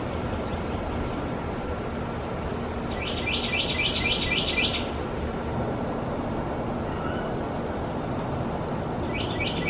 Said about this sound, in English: Bird, bird, bird, bird, bird, bird, bird.